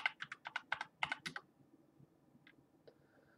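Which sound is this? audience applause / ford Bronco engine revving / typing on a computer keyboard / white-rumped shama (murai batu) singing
typing on a computer keyboard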